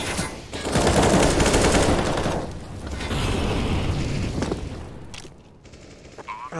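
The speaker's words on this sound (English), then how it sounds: "The shots are coming through." Gunfire during a Counter-Strike match on the Train map, a dense rolling barrage of shots and booming impacts that swells, eases, then swells again before fading.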